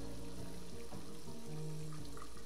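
Steady running water from a tap in the Heavy Rain video game as a character splashes water on their face, a constant close rushing flow with no speech.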